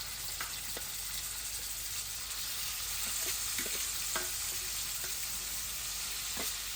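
Shallots, garlic, eggplant and offal frying in a pan, a continuous soft sizzle with occasional scraping and stirring clicks, steady and quiet.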